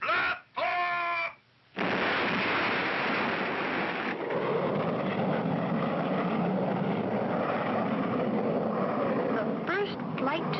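Cartoon rocket blasting off: a roaring, rumbling thrust starts abruptly after short bursts of sound and holds steady and loud for several seconds, with a brief bit of voice near the end.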